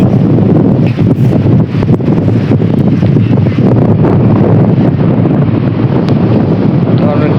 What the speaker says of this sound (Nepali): पुल चाहिँ यही हो, लास्टै हावा लाग्ने रहेछ।